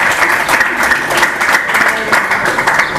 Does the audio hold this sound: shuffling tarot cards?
no